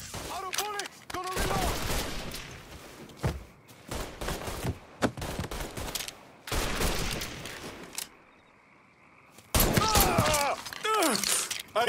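Gunfire in the video game Mafia 3 rattles out in repeated sharp bursts and volleys, with short pauses between them, while voices shout over the shooting.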